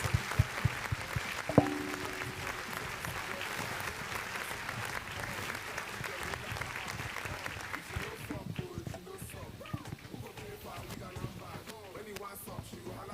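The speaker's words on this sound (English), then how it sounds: "let's keep clapping for her till she sits" An audience gives sustained applause for someone speaker at a Ghana Heritage Month themed HR event, steady clapping running throughout with some crowd voices mixed in and tapering slightly near the end.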